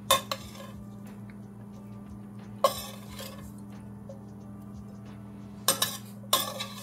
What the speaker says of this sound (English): I'm just removing them from the pot now